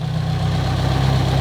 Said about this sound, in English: it sounds surprisingly quiet for a built engine